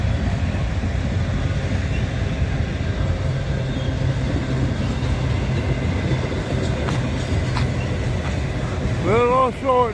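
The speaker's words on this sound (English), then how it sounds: "Little small train leaving Greenwood" A short freight train carrying auto wrecks and manifest cars rolls past in Abbeville, leaving Greenwood, a steady rumbling and clatter heard from nearby outdoors, with brief faint chirps at the end.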